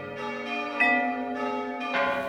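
Wedding bells ring inside the all-white Coltrane home, several loud overlapping strokes sounding in quick succession with long ringing tones that hang between them.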